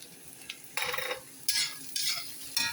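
Green chili, onion and ginger-garlic paste sizzling in hot oil for mustard-greens curry, stirred with a utensil in bursts: a quiet sizzle broken by several louder scraping, crackling stirs, no speech.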